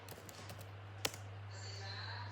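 Keys tapped on a computer keyboard while entering commands in a command prompt: a few scattered, light clicks, then one sharper keystroke, all over a low steady hum.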